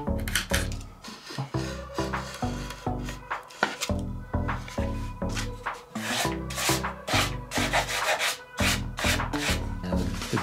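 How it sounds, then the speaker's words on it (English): Sandpaper scrubs back and forth over wood during closet shelving work, with glue clogging the paper, producing loud rhythmic rasping strokes in quick bursts, close up and with no talking. "The glue is getting on the sandpaper."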